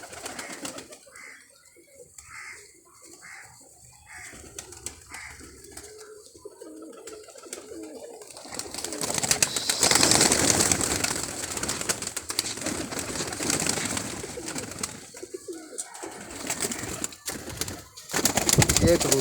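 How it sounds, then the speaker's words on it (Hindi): Pigeons cooing on a rooftop loft amid rustling, someone talking over the soft repeated calls and occasional wing flutters. "इनमें बड़े बड़े क्लासिकल कबूतर है, इनमें बड़े बड़े अच्छे कबूतर है"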